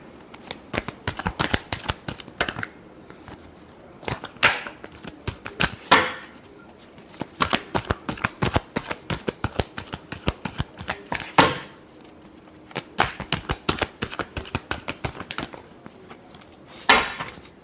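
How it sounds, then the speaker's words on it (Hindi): Tarot cards shuffled by hand in dense bursts of crisp riffling and flicking, with short pauses between rounds and a few sharper snaps, close and clear with no talking. "Last shuffle."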